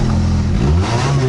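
An old, large Honda engine catches and revs, its loud low harmonic drone rising and shifting in pitch over a short burst, close and steady with no voices.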